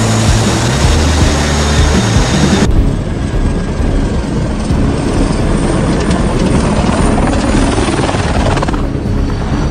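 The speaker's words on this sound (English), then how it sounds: "seeing nearly 20 Apaches and CH-47s do a super low and controlled flyby during their military parade" Nearly twenty Apache and CH-47 military helicopters make a low, controlled flyby during a military parade, their rotors forming a loud, dense, continuous roar that holds steady close by throughout.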